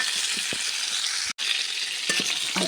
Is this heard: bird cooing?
no